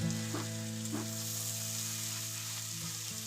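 Snake gourd and poppy seed curry with prawns is stirred in a pan, giving a steady close sizzle with a few soft scraping strokes of the spatula, no talking.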